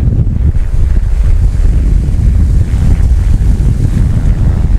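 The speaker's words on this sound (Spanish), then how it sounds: "Miren, ahí vienen las olas más grandes, van a reventar." Large ocean waves break and roar continuously along a California beach, a loud, dense surf wash with heavy wind buffeting close to the microphone and no voices.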